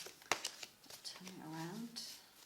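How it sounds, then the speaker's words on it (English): Oracle cards are mixed and handled by hand, with a few crisp papery taps and flicks close by, followed by a soft voice murmuring. "I'm going to pick some of my cards that are mixed up"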